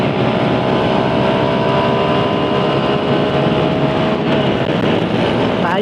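Steady, loud drone of a Suzuki Raider J115Fi motorcycle engine running continuously close by, with no talk.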